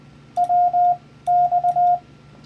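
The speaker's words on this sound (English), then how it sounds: "if you hear the word WX, weather" Two short bursts of steady beeping tones, Morse code for WX, clear and close over faint background hiss.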